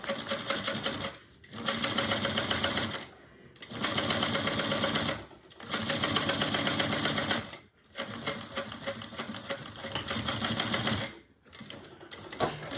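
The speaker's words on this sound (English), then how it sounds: "I backstitch right before I get to that fold" A sewing machine runs in long steady bursts while stitching and backstitching a bag seam, stopping briefly between passes, loud and close with no speech.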